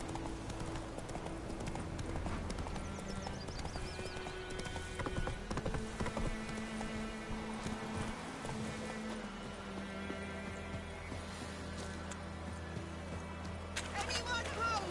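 A horse trots on in The Witcher 3, its hooves clopping steadily beneath game music and voices talking, with a swell of louder ambience near the end.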